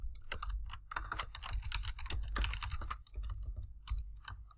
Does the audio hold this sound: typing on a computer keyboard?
yes